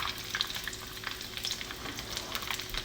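Bacon sizzles steadily in a pan, partly cooked for bacon fried rice, with close crackling and occasional pops and stirring scrapes throughout.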